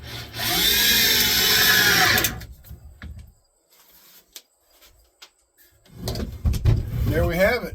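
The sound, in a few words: 6-amp Black & Decker power tool running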